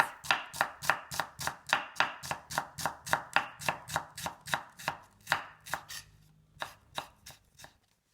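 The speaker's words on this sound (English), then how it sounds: "First, you slice onion very thinly like this." A knife thinly slices onion on a cutting board in a fast, even run of crisp close chops, which slows and spaces out near the end.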